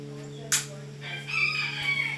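A rooster crows once, a loud drawn-out call rising after a sharp sound, heard over a steady low electrical hum.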